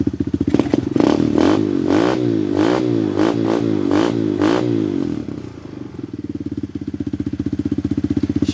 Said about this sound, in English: Bring the RPMs actually up a little bit.